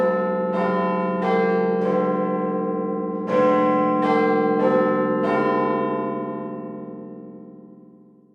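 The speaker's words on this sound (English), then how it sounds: "Everyone calls the clock Big Ben. The name refers to the bell inside the clock. You can hear the bell every hour." Big Ben, the great bell in the London clock tower, sounds in a series of deep resonant chimes spaced about a second apart, each ringing on and slowly fading.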